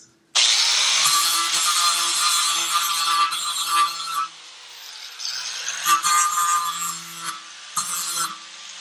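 A hand saw cuts back and forth through a part clamped in a vise while a Radium catch can bracket is made, with rasping strokes that run long and steady, then break into shorter, uneven bursts.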